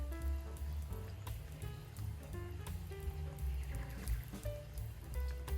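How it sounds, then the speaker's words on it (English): Rain falls steadily in a soft patter under a low hum, with faint musical tones mixed in at a quiet level. "I love it when it's raining."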